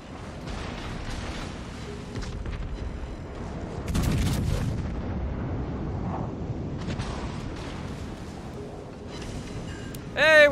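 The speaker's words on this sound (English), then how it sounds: "I'm firing my guns at battleships that are 10 kilometers away who are broadside on and I can't hit them" Warship main guns firing at distant battleships in World of Warships Legends, with deep booming salvos and rumbling blasts over a steady background, louder around the middle, and a brief rising tone at the end.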